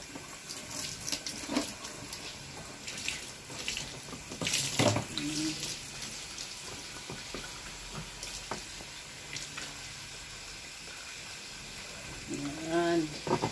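Water pours steadily from a tap while a dog is bathed, a continuous close splashing hiss with some louder gushes, and a person talks over it at times.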